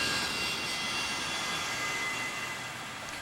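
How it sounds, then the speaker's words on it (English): The piston engines of a Douglas DC-3 airliner in flight carrying passengers between Boston and Cape Cod give a steady broad roar that eases slightly toward the end, with no voices. "the DC-3 is working still, here carrying passengers between Boston and Cape Cod"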